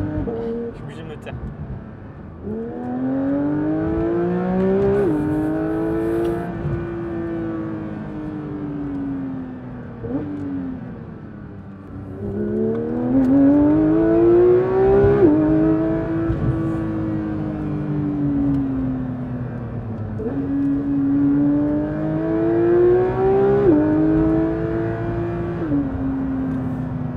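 A Porsche GT3 engine revs hard through repeated rising sweeps of acceleration, loud and close from the cabin, with gear changes dropping the pitch before it climbs again, steady engine roar throughout.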